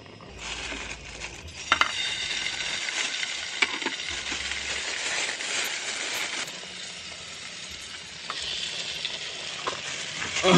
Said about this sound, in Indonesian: kita goreng yang namanya sosis